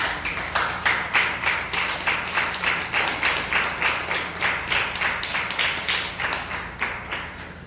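A church congregation claps together in a steady, quick rhythm, about three claps per second, sustained evenly and fairly close throughout with no voices standing out.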